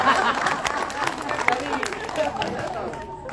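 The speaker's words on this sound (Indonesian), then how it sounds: "Tepuk tangan prestasinya" Clapping from guests at a school class reunion gala dinner, a dense patter of hands over crowd chatter and background talk, steady and moderately loud throughout.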